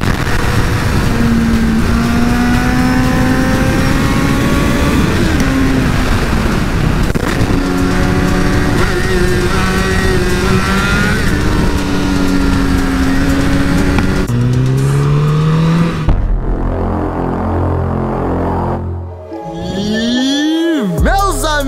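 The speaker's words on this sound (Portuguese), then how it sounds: "o primeiríssimo rolê com a minha nova moto A minha CBR 1000" A Honda CBR1000 Repsol sport motorcycle engine revs hard and climbs through rising pitches, then drops and surges again with loud, close roaring sweeps.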